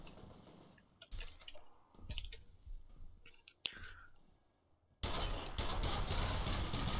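Gunfire in the video game F.E.A.R. Extraction Point, scattered sharp shots and clicks mixed with quieter game noise, ending in a loud sustained burst of fire; a person speaks over part of it.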